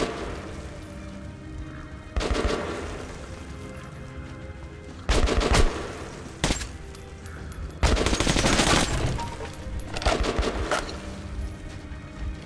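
Gunfire from a gun in the video game Metro: Last Light comes in several loud bursts of rapid automatic shots, separated by quieter gaps of background ambience.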